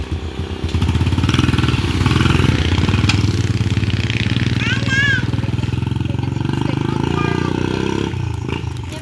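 A motorcycle runs on a road test with a steady, loud engine drone and clattering throb close by, while someone talks over it.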